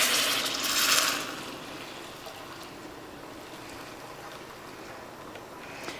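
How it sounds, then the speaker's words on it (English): Water base being poured into a pot for pork bone ramyun, a brief splashing pour in the first second that fades into a soft, steady trickle and low background hiss. "Okay, so I'm going to pour in my water base."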